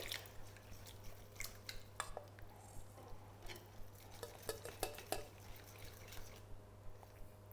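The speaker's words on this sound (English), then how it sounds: "Give it a good stir" A utensil scrapes and taps around a bowl as thinned, runny spring roll batter is stirred, giving soft wet sloshing and irregular clinks against a faint steady hum, fairly quiet throughout.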